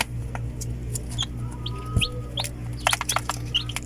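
Rhode Island and Black Astrolord chickens cluck and chirp in short calls over a steady low hum from an incubator or other machine, with scattered bird sounds near and farther off.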